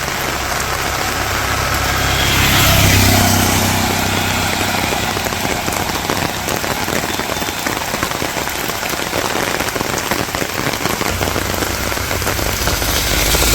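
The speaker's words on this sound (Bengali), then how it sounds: "বৃষ্টি হোক কিনছি সাতা কিনছি বৃষ্টির পানি পড়ে সাতার মাঝখান দিয়ে" Heavy rain pours steadily during a village storm, a dense continuous hiss of drops striking surfaces, loud and close throughout with a low rumble underneath that eases near the end.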